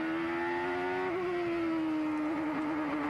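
IndyCar engine at Laguna Seca screaming at high, steady revs, dipping briefly twice as it shifts gear, loud and close with no talk.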